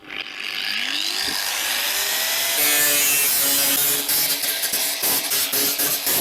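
A 1.4 kW angle grinder with a Dnipro-M disc whines and bites into profiled steel sheet with a harsh, rising scrape, loud and close, ending in choppy bursts as the cut finishes.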